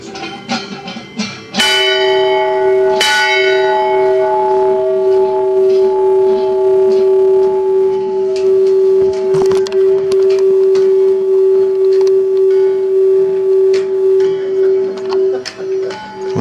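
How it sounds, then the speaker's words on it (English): A loud schoolhouse bell rings with a strong, sustained metallic tone that lingers and hums for many seconds, struck again midway. "So I'd like to ring it loudly. Okay, loud bell. Loud bell."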